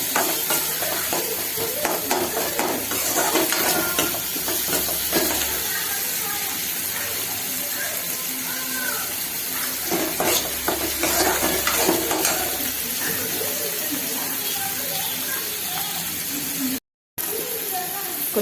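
Tomatoes sautéing in a pan for a quail fry, a continuous sizzle with frequent stirring scrapes and clinks, voices talking over it at times.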